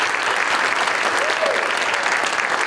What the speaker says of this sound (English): So a special round of applause for that.